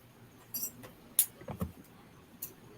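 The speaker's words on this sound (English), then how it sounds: "That's keys." Keys jangle in a few brief, faint metallic bursts over a low background hum, heard from some distance with pauses between the rattles.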